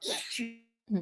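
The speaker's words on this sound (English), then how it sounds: "I'm finna sneeze." A single sharp sneeze, close and abrupt, followed after a short pause by a brief voiced sound.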